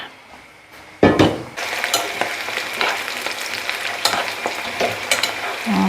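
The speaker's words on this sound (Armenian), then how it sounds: "Կտապակվի, լցնեմ այս հաճարի վրա" Food fries in a pan with a loud, constant sizzle that starts abruptly. Sharp clinks and scrapes of a utensil stirring against the pan break through it, all close by and with no talk.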